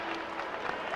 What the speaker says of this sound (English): a nice round of applause here as Weatherspoon checks in